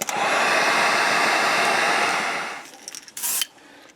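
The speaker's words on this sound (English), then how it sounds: "Let's go ahead and dry that with the heat gun." A heat gun blows steadily and loudly up close, drying fresh paint on a fishing lure, then cuts off near the end, leaving a short burst and light handling noises.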